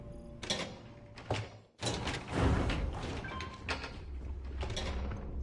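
Sliding cargo bay doors aboard a spaceship in Starfield, a series of mechanical thuds and a long whooshing slide, close and fairly loud, followed by a lingering low rumble.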